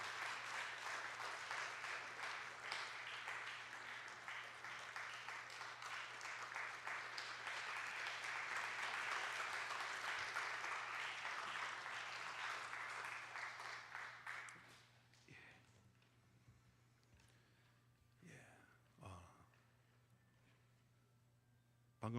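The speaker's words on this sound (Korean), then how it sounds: "우리 힘찬 축하의 박수 부탁드립니다" A church congregation claps for about fifteen seconds in a dense, steady round of applause during a Sunday service, then it stops abruptly, leaving faint room noise, a low hum and a few scattered knocks and shuffles.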